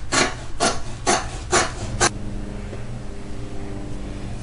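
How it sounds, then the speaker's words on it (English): Scissors snip through car headliner fabric for a sail panel, five sharp rasping cuts in a steady rhythm, close and fairly loud, then a quiet low hum. "we're going to take our scissors, and we're just going to cut."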